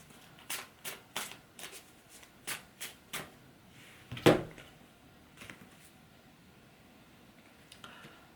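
Tarot cards are shuffled by hand in a run of quick, crisp riffling bursts, with a louder slap of the deck in the middle and then quieter rustles as the shuffling tapers off. Close and clear, with no talking.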